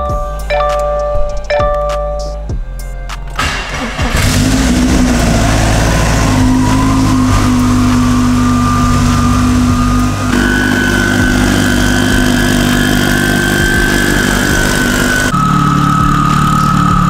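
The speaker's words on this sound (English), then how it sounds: "Now I need to go ahead and start this car" Several chimes and clicks come first, then a car engine cranks and catches around four seconds in and settles into a loud, steady close idle.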